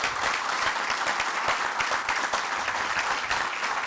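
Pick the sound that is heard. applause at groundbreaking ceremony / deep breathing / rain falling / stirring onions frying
applause at groundbreaking ceremony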